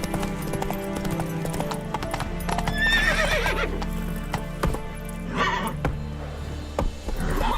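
Geralt's horse Roach in The Witcher 3 galloping with a steady clip-clop of hooves and a clear whinny partway through, loud and close over ambient game music.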